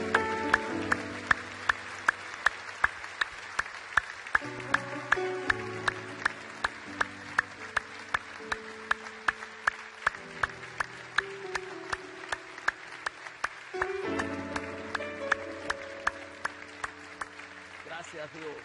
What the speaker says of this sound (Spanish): propínale un aplauso que allente la sangre de tu mano